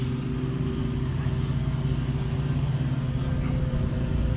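A Chevy truck with about 112,000 miles idles and revs steadily nearby, a continuous low engine rumble with no clear speech over it.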